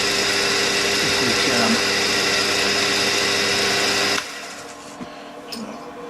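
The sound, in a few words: drilling a hole in metal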